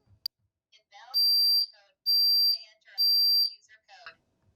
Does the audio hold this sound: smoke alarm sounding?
yes